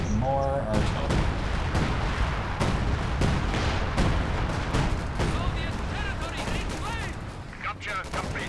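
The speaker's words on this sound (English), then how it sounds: "More artillery." Artillery and gunfire in the World War II strategy game Company of Heroes 2, a steady barrage of loud booms and sharp cracks with repeated impacts throughout, while a voice talks briefly over the battle.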